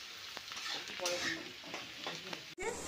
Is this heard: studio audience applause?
no